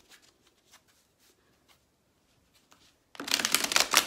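Tarot cards are shuffled close by, a dense riffling burst near the end after a few soft taps and handling sounds in near silence.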